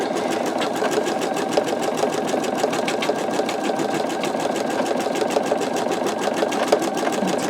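An embroidery machine stitches out a skull design with a steady, fast, even needle rhythm and continuous motor hum, close and uninterrupted throughout.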